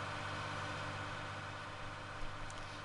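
Tractor engine in Farming Simulator 19 runs steadily at high RPM, a constant droning hum with a strong low-end tone and no break in pitch, fairly faint and without talk.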